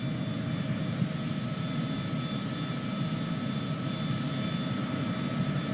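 A Cessna Citation CJ4 jet on landing approach in Microsoft Flight Simulator 2020 during a thunderstorm gives a steady, even roar of engine and air noise that carries on unbroken with no talk.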